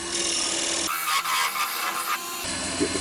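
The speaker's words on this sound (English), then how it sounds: "use the skew chisel now to get the shoulders on the mortise" Skew chisel cutting into a padauk and walnut bowl on a wood lathe, a rough, steady scraping rasp that rises in the middle of the clip, fairly close, with no talking.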